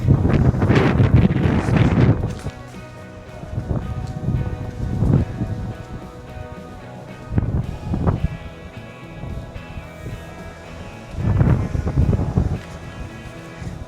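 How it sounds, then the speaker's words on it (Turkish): Strong gusts of wind on a hilltop at Behramkale, Assos, batter the microphone in heavy roaring bursts, easing briefly between blasts before surging again. "Çok aşırı rüzgar olduğu için biraz daha kuytu köşelerde göstermeye çalışıyorum."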